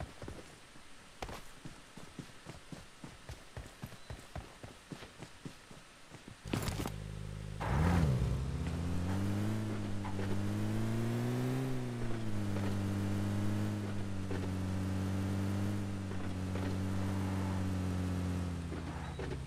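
A car in the PUBG Mobile battle royale game, heard first as a run of footsteps, then an engine starts and drones loudly, its pitch rising and falling as the vehicle accelerates and drives on.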